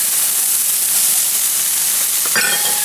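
Garlic sizzling in a pan with onion and seared black mushrooms for a pork chop sauce, a steady loud hiss and crackle throughout, with a brief clatter of stirring near the end.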